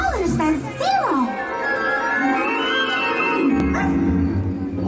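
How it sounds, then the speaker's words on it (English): Ghost dog at a Disney World Halloween party attraction barks and yips in short bursts, with a narrator's voice and background music running throughout. "Hey, look, a dog. It's a ghost dog."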